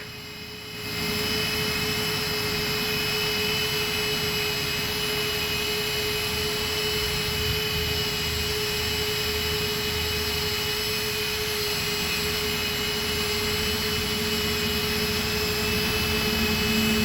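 Autonomous drone hovering and spinning before landing, a steady high-pitched motor whine with a sustained tonal hum, constant and fairly close, with no speech.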